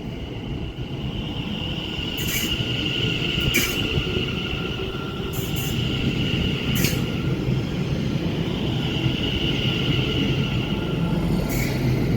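A train departs Hythe station in Colchester, Essex, with a steady close rumble of wheels on rails and repeated high metallic squeals, building slightly in loudness with no talk over it.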